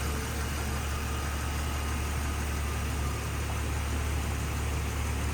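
A 1999 Jeep Cherokee with a 4.0-liter, 242 cubic inch AMC inline-six idles steadily, giving a constant low hum under broad, even noise with no revving.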